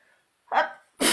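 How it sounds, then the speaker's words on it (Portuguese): A woman sneezes twice in quick succession, a short breathy burst followed by a sharper, louder one, close and clear against an otherwise quiet indoor background. "Olha o espirro aí"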